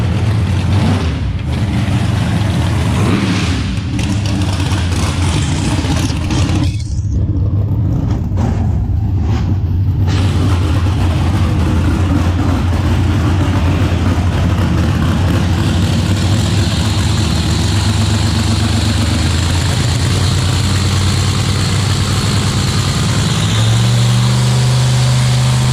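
A high-horsepower car engine runs steadily on a dyno next door, a loud continuous low drone that holds for the whole stretch and shifts slightly in pitch near the end.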